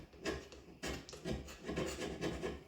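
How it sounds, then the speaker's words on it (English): Rough hand scraping on a cast iron straight edge: repeated short, rasping strokes in a steady rhythm, about five or six passes, close but fairly quiet. "I'm going to be 4 hours in on rough scraping, just at the pace I'm removing material."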